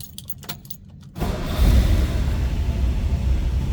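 A 1954 Ford Crestline four-door sedan cranks with a few jangling clicks, then its engine catches and settles into a steady low rumbling idle, close and loud.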